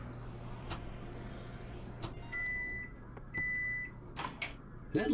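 A microwave oven hums steadily in the video game Job Simulator, with a faint low drone, a few clicks and beeping tones near the end. The sound is quiet throughout.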